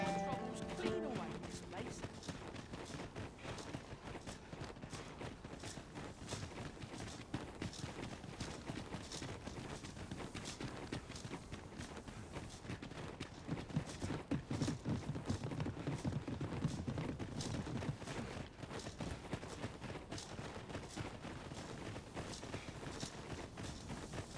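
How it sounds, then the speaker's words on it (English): Horse hooves clip-clop in the fantasy game Dragon's Dogma 2, a steady rapid run of hoofbeats that carries on without a break, with voices talking over it. "Careful! More horses are about!"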